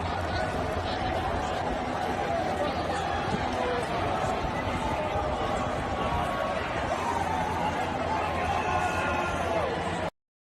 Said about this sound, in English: took this video of people in the crowd